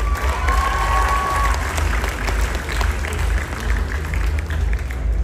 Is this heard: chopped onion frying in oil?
no